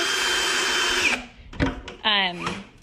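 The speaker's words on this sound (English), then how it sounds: "he is using the drill to insert the screws" A power drill whirs steadily for about a second, followed by short bursts of drilling and a higher buzzing run as it drives screws into clamped wood, with a voice talking over parts of it.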